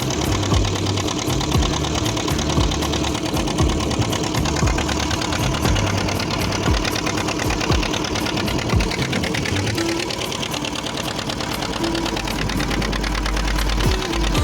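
A motorboat engine chugs steadily and loudly throughout while crossing a river to Mousuni Island, its rapid mechanical knocking droning on without pause.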